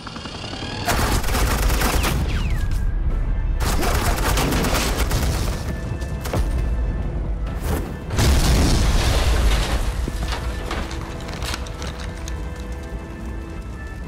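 Gunfire in Batman: The Enemy Within, a Telltale game: a loud, sustained barrage of rapid shots and booms that pounds on almost without pause, with a brief dip midway.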